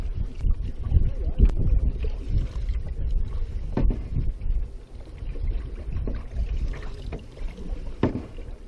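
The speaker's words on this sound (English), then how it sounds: "Quite windy in here" Gusty wind buffets the microphone with low rumbling thumps in a narrow between two lakes in Kawartha Highlands, Ontario, mixed with faint water sounds, no voices.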